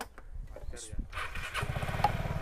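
A Vespa 150 scooter engine cranks and catches, settling into a close, steady putter after a second of handling noise and faint talk.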